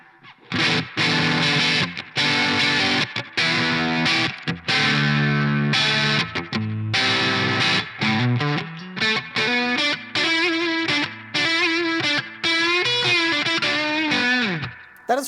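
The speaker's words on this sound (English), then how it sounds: "That is for sure a single coil sound." An electric guitar, a Charvel Pro Mod So Cal, is played through its single-coil pickup with distortion and chorus, giving choppy bursts of notes and bent lines with short gaps between phrases and no talk.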